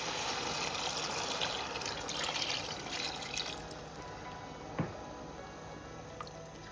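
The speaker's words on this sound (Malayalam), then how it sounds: "നമുക്ക് ഇതിലേക്ക് ഒരു 3 കപ്പ് അരി എടുത്ത കപ്പിന് തന്നെ 3 കപ്പ് വെള്ളം ചേർത്ത് കൊടുക്കുന്നുണ്ട്" Water splashes softly into a pot of rice for homemade Arabic chicken kabsa, with faint trickling, drips and one sharp clink, fairly quiet and close.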